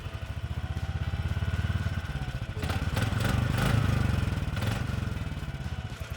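A snow sled powered by a lawnmower engine runs with a steady low chugging idle and a brief rev in the middle, close and continuous, with no voices.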